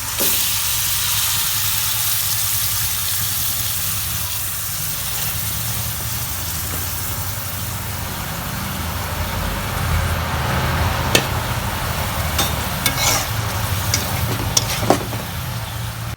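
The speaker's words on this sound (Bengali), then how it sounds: "এখন এই যে পাঙ্গাস মাছটা মাখা রাখছিলাম এটা দিয়ে দিচ্ছি" Marinated pangas fish, rubbed with turmeric, salt, chili, ginger and garlic paste, frying in hot oil with fried onion, giving a steady loud sizzle with a few sharp crackles and pops.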